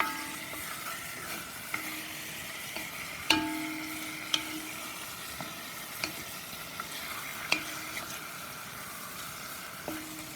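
Beef chunks brown in a stew pot, with a low, steady sizzle and scattered sharp clicks and taps of a utensil against the pot, close and moderately quiet.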